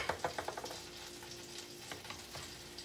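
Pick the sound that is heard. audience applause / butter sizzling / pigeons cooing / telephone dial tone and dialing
butter sizzling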